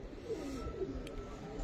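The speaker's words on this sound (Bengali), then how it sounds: "এটা হইতেছে ভাই জাগগোলা টাইপের কবুতর, জাগগোলা নর" Soft cooing from a Jaggola-type male pigeon, a Giribaz flying breed, low and murmuring close by against steady background noise, with faint voices nearby.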